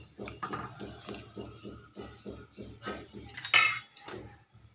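Cardamom pods and bay leaves being stirred in a pot, a steady run of rhythmic metal scrapes and taps from a spoon, close and moderately loud, with one sharper clang near the end.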